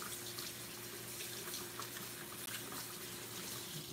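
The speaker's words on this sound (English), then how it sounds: "And then what I'm going to do is rinse my hands real quick." Hands rinsed under a running kitchen tap to wash off sticky keto dough, a steady close hiss of flowing water that holds at one level for the whole few seconds, with no talk.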